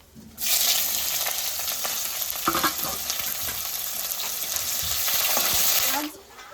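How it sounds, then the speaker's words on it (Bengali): Onion goes into hot oil seasoned with bay leaf, cumin and chilli and sizzles loudly at once, with a steady close-up frying hiss, a few stirring scrapes, and a sharp stop near the end. "এখন আমি পেঁয়াজ দিয়ে দেবো"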